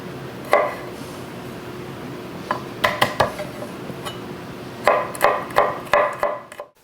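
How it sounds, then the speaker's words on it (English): Knife chopping garlic on a board, in two rhythmic runs of sharp close taps separated by a pause with a few scattered knocks, no voices. "Here's my garlic. I'm going to chop it up the same way."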